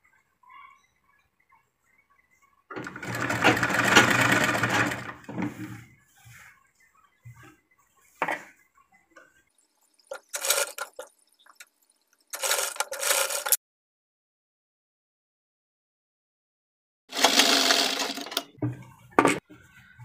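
A sewing machine stitches folded cloth for palazzo pants in short bursts: one longer whirring run, then several brief separated runs with silent pauses between them.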